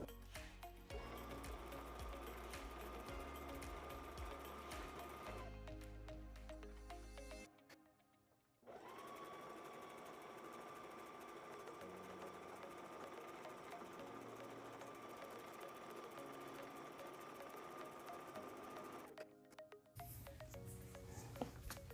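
A sewing machine runs a long faux serged stitch along a fabric edge, humming steadily and close up through two extended runs separated by a brief pause, with no talking.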